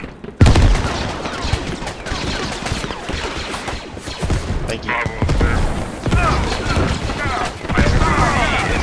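Mortar fire and battlefield gunfire in the Star Wars Squad mod Galactic Contention, set on Tatooine, with repeated heavy blasts and bursts of shooting, loud and close, while players talk.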